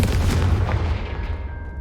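Confringo fire spell blast in Hogwarts Legacy: one loud, booming burst right at the start, fading over the next two seconds into a low rumble with a thin lingering whine.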